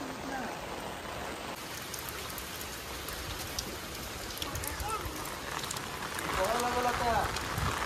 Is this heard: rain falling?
yes